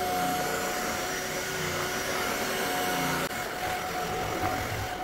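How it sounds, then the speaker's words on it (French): Ultenic U20 cordless stick vacuum running steadily in carpet mode on short-pile rug, a loud continuous motor whine with airflow hiss and no talking. "Vous appuyez comme ça sur le mode carpet et vous allez pouvoir utiliser, aspirer les tapis à poil court."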